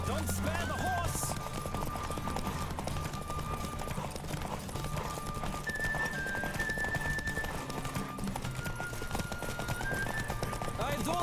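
Horse galloping in The Witcher 3 video game, rapid rhythmic hoofbeats clip-clopping continuously in the background of music, faint and steady, with voices talking over them.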